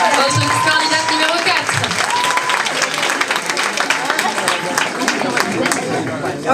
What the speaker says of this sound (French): Merci infiniment, on l'applaudit bien fort.